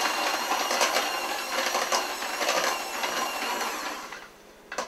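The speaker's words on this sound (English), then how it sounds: "Now these potatoes are mixing very easily because they're cooked just right." An electric hand mixer whirs steadily while mashing cooked potatoes for a potato pie, giving a continuous mechanical grinding hum with a rattling texture that stays loud throughout and cuts off briefly near the end.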